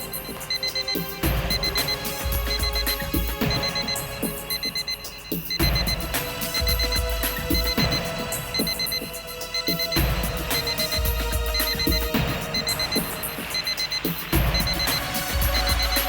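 An alarm rings on what may be a bomb near a vehicle, a continuous, loud, rapidly repeating electronic beeping that runs unbroken throughout with no talking over it.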